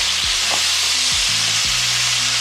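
Ground beef or turkey browning in a hot pan with a loud, dense sizzle throughout, broken by a few low wooden-spatula scrapes and thumps as the meat is broken up, close and steady.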